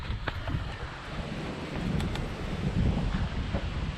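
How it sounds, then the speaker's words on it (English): Strong hurricane wind from Hurricane Isaias buffets the microphone in rough, rumbling gusts that swell louder toward the end, with no voices. "It's really windy out."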